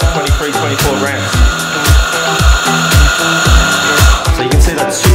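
A Dip DS-68 coffee grinder grinds a dose of about 24 grams of coffee beans, a loud, close, steady motor whir with rapid rhythmic crunching pulses throughout.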